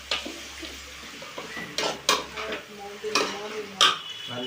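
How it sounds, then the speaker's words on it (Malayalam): Chicken being stirred in a pan over high flame for chicken pirattu, with sharp scraping clatters of a utensil against the metal at irregular intervals and a faint sizzle underneath. "ചിക്കൻ ചേർത്ത് അത് നല്ലോണം നമ്മൾ മിക്സ് ചെയ്യണം."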